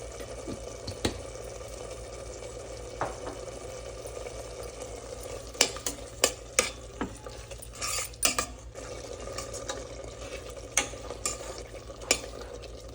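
Salted tomatoes for tomato rice frying in oil in a pan, a steady soft sizzle punctuated by repeated spoon clinks and scraping taps from stirring, no voices.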